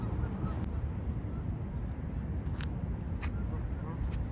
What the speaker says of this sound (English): Wow, there's so many ducks here.